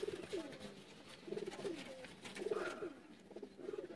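Pigeons of a fancy, umbrella-tailed breed coo in repeated soft throaty phrases, several rolling calls in a loose rhythm at moderate distance, with no talk over them.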